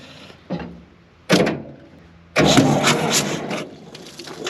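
An old John Deere bulldozer engine cranks in short bursts, then catches and runs loud and rough, close by with no talking.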